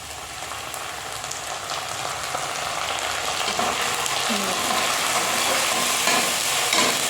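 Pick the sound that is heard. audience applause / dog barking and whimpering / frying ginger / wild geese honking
frying ginger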